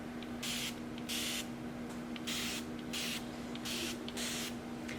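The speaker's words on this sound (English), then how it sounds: "It is the continuous spray bottle." A continuous spray bottle mists microlocs in repeated bursts, about six quick hissing sprays with short pauses between them, close and steady, over a faint constant hum.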